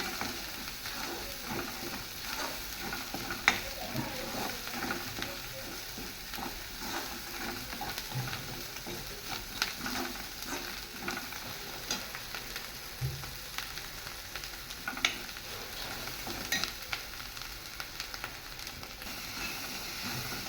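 Chutney masala is stirred into paneer curry in a pan, with a quiet, steady sizzle and soft scraping broken by occasional light taps of the spoon.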